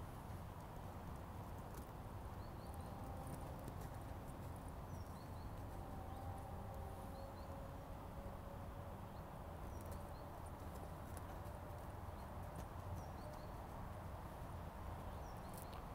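A horse trotting on a lunge line, with steady rhythmic hoofbeats on a soft surface a short way off, over constant outdoor background noise and occasional faint birds.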